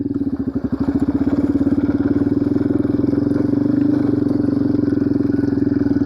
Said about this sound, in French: je vais remettre la première, voilà, et je vais faire demi-tour et on va recommencer